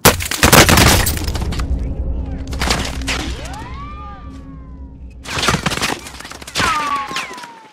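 Gunfire hits the player in the video game Fortnite, coming as loud clustered bursts of shots with pauses and ringing tails between them.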